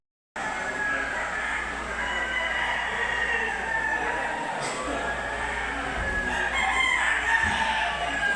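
A rooster crows in a rural setting, its calls rising out of steady background noise with a low hum, fairly close and continuing throughout.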